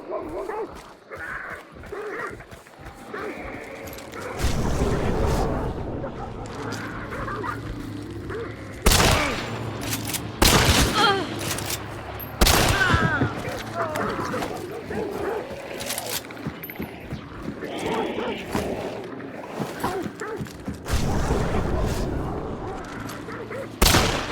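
Gunfire in Hunt: Showdown, several sharp, loud shots and a short burst spread across the scene, set against busy game sounds including dogs barking and yipping.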